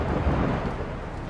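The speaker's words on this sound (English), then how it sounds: "a powerful storm hits Milwaukee" Thunder rumbles through a powerful storm in Milwaukee, a steady loud roar with rain hiss, continuous and broad, with no voices.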